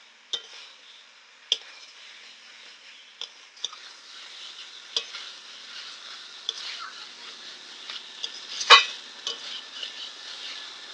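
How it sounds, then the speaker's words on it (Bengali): Fried eggplant and khalisa fish stirred through spices in a pan: a thin, quiet sizzle under scattered sharp clicks and taps of a spatula against the pan. "বেগুন আর মাছগুলোকে মশলার সাথে ভালো করে কষিয়ে নিলাম।"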